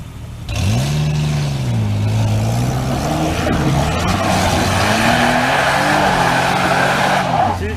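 A Jeep TJ does a four-wheel burnout, its engine revving hard with rising and falling pitch as spinning tires squeal and hiss continuously. Voices can be heard in the background.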